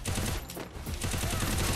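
Rapid bursts of gunfire in a mobile shooter video game, loud and dense, with a brief lull in the middle before the shooting resumes.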